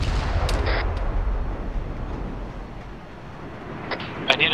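Heavy gunfire and booming explosions rumble through a military shooter game, dense and continuous at close range, with a few sharper cracks near the end.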